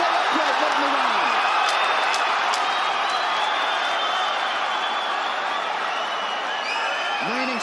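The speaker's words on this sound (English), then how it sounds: "Have you ever heard a crowd like this?" Loud arena crowd roaring and cheering continuously during a UFC-style MMA fight between Volkanovski and Makhachev, a dense sustained wall of noise with scattered whoops and shouts.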